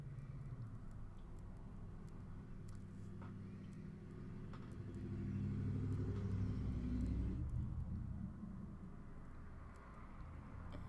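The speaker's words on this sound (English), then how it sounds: "All of the loud rumbly cars are going by today." Loud, rumbly cars pass by outdoors, a steady low engine rumble that swells to a peak near the middle and then eases off, with no talking.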